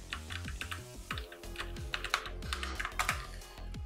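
Rapid typing on a computer keyboard, a close, dense run of crisp key clicks with uneven rhythm and a few heavier thumps, heard alone without speech.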